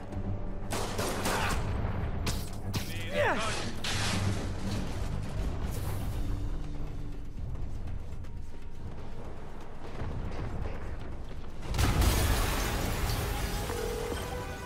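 A loud explosion in Marvel's Spider-Man on PS4 booms amid dense, continuous gunfire and battle noise, with another heavy blast erupting near the end.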